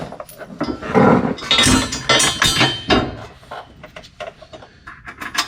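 Metal hitch bolts are fed into a Sprinter van chassis tie-in bracket, giving a series of close, irregular clinks, knocks and scraping taps of steel on steel.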